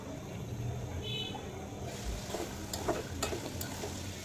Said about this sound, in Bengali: তো এখন আলুটা দিয়ে আমি আলুটাকে একটু হাফ সেদ্ধ করে নেব, কষাতে কষাতে হাফ সেদ্ধ হয়ে যাবে।